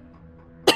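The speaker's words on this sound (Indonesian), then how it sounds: "Batuk kan." A single sharp cough bursts out near the end after near silence, close and loud, set during a night thunderstorm with lightning outside.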